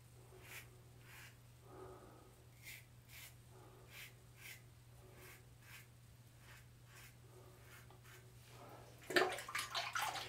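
A razor scrapes upward against the grain over a face lathered with Olivina shave soap in a quiet room: soft, repeated short strokes come at a steady rhythm, followed by a louder burst of rinsing water.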